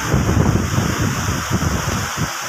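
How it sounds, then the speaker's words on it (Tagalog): Steady rain pours down on Boracay beach during a low-pressure spell, a dense, continuous wash of noise with wind buffeting the microphone and no voices. "Ayan na naman ang ulan."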